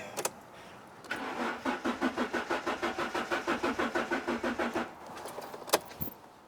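A Fiat Coupe's starter cranks the engine in a long, regular chugging rhythm of about twenty strokes without catching, followed by a couple of sharp clicks.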